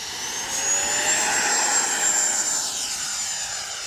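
An FMS Integral 80mm Sharky RC model jet taking off: a loud, close, steady high-pitched turbine whine with a broad rushing roar that swells and holds throughout, with no talking.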